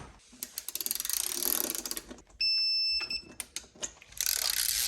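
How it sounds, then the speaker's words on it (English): A torque wrench ratchets in quick clicking runs during a build on an Allied Echo, with a steady electronic beep in the middle and another burst of clicks at the end. "Let me get the torque wrench really quick."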